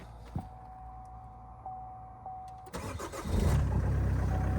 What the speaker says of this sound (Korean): 경쾌하게 시동 걸리죠